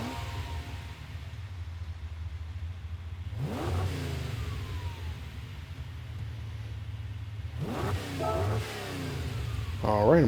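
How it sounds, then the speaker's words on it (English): A 1971 Ferrari 365 GTB4 in Gran Turismo 7 cranks to life and blips its engine twice, each rev rising sharply over a steady low idle hum. "We're going to listen to the startup sound"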